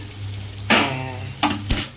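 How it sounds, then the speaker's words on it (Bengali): Pointed gourd sizzles in hot oil, with three sharp bursts of crackling as the pieces are stirred or shifted in the pan, over a quiet background hum. "পটলগুলো তো ভাজা যাচ্ছে"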